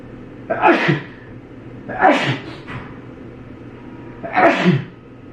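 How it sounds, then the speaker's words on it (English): Three separate sneezes, each a sharp explosive burst with a breathy lead-in, spaced a couple of seconds apart and close to the listener. "I'm gonna sneeze."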